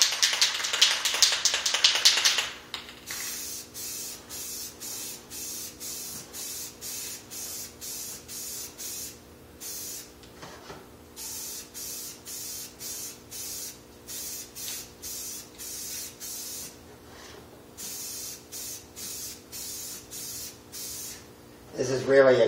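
Spray gun laying a heavier coat onto cyclekart wheel discs in a workshop: a steady close hiss broken into many short, regular bursts, with a brief louder start and a clatter at the end.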